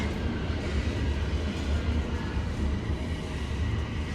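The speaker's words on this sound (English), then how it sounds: "So that's the southbound train." A Toronto TTC southbound subway train rumbles past close by at Rosedale Station, a steady low roar with rattling wheels that holds for several seconds, no voices.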